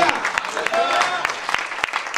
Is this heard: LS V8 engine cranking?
no